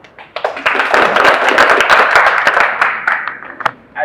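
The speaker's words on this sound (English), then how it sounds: "Please, a round of applause to yourselves." A team audience at a nutrition meeting in Kisumu, Kenya gives itself a round of applause, a loud, close burst of many hands clapping that swells quickly and tapers off after about three seconds, with no talk over it.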